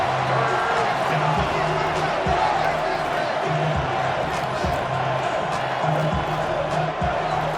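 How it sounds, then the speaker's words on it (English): Football stadium crowd at a Monday Night Football game between the Tampa Bay Buccaneers and Houston Texans roars in a loud, steady wall of cheering, with occasional thumps and a commentator's voice underneath. "Well, this crowd into it now."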